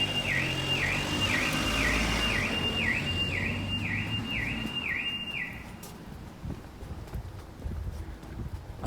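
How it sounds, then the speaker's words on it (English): A house alarm wails in a rapid repeating two-tone pattern for several seconds, then stops, heard outdoors near Ealing Common and Acton Town amid wind and road noise. "I think that was a house alarm"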